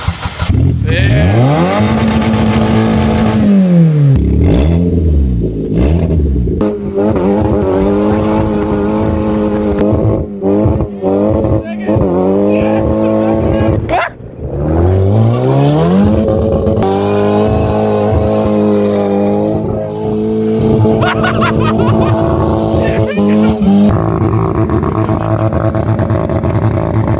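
A beat-up skid ute with a turbo and a swapped diff revs hard and skids, its engine screaming and rising and falling in pitch through long sustained bursts, loud and close, with tire squeal mixed in and no talking.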